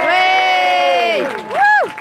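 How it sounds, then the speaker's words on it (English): Spectators at an IMCF fight event cheer for two fighters between rounds, a loud crowd roar dominated by high whoops and shouted voices that swell briefly, dip, then rise again in a sharp second whoop near the end. "give both these warriors a big, big cheer"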